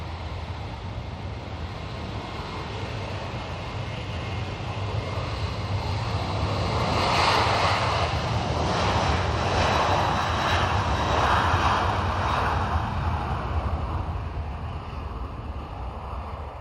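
An airliner's jet engines roar at Bristol Airport, a loud, continuous drone that swells in the middle and eases toward the end, with no one speaking.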